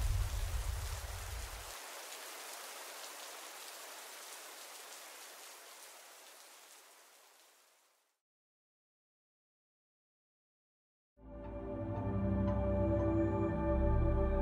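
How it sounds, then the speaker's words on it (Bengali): Heavy downpour with thunder as an audio drama effect: a low rumble opens over a dense, steady rain hiss that fades out, followed by silence and then music. "বাইরে তখন বজ্রপাতের প্রবল গর্জন সহ মুষলধারে বৃষ্টি শুরু হয়েছে।"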